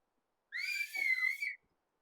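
One student whistles alone in a school whistling contest: a clear, shrill tone held for about a second with a brief dip partway through, then silence.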